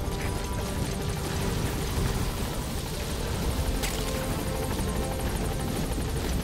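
A helicopter from Metal Gear Solid V: The Phantom Pain holds a constant, loud rotor roar and engine whine nearby, unbroken for several seconds, with no talking.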